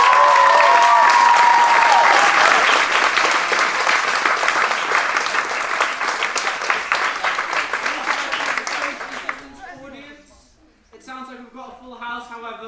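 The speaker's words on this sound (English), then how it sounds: "can we have a massive round of applause for the actors" An audience at a school house drama performance gives the actors a loud, sustained round of applause with some cheering, which fades out before a voice begins speaking.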